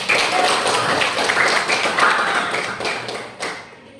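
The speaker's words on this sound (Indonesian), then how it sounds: "Kasih aplaus." A classroom gives applause for a correct answer: a short, close burst of many hands clapping that fades out after a few seconds.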